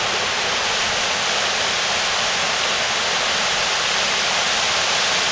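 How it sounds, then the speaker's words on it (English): A waterfall pours in a steady, unbroken roar of rushing water, loud and close, with no voices over it. "Look at that waterfall."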